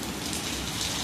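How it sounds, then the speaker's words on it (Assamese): Rain falls steadily in Guwahati, a dense, even hiss of drops striking surfaces nearby with no breaks. "বৰষুণ দিছে"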